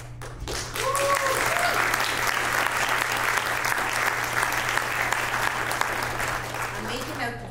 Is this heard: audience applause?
yes